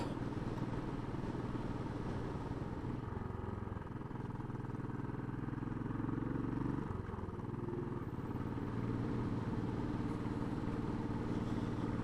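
Royal Enfield single-cylinder motorcycle engine pulling steadily uphill in fifth gear at about 40 mph, a continuous close, loud low rumble with wind noise and no voices.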